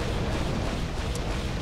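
A loud, dense explosion blast from a grenade-style launcher in the Duke Nukem Forever video game, a continuous roaring rumble across the whole short moment.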